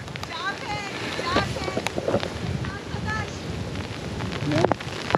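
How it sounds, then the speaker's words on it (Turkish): Wind buffets the microphone over a steady outdoor wash that could be rain, with voices talking intermittently throughout. "Yağmur başladı."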